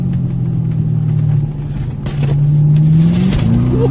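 BMW 650i with no muffler, its engine loud and near, droning steadily and then rising as revs climb toward the end, harsh and unmuffled.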